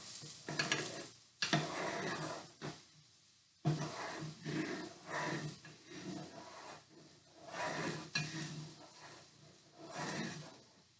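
Thickening tomatillo sauce in a pan, heard as repeated stirring and scraping strokes against the pan with a soft bubbling sizzle underneath, rising and falling in bursts.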